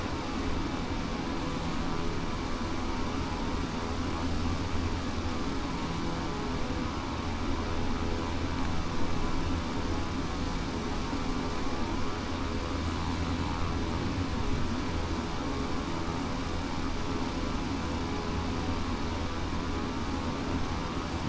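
Small-plane engine drones steadily in a flight simulator on an Alaska route from Soldotna to Summit, a constant cabin-level hum holding unchanged for the whole stretch, with no talking.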